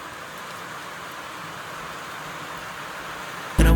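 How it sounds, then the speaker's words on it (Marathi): Heavy rain falling at Shri Kundeshwar temple in Khed taluka pours as a steady, dense hiss at even loudness for several seconds before a sudden loud burst at the very end. "पाऊस लय यायला लागला आता"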